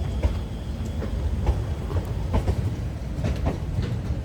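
An 8-coach diesel train rolls steadily past nearby, wheels clicking over rail joints in a regular clickety-clack rhythm beneath a low rumble.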